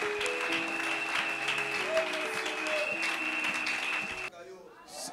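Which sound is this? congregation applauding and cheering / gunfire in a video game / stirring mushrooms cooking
congregation applauding and cheering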